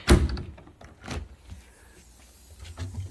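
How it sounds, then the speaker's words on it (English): A Harbor Freight sandblast cabinet door is opened, giving a loud thunk at the start and another knock about a second later, followed by faint rattles and a softer clunk near the end. "I'll open the cabinet."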